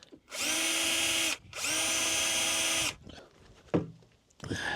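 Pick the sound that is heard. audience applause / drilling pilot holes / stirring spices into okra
drilling pilot holes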